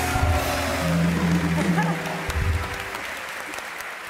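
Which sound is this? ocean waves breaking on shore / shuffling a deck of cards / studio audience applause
studio audience applause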